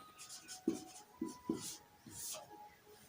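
Pen scratching across paper while a maths problem is worked out, a few short strokes spaced through quiet room tone, close and soft, with faint background noise.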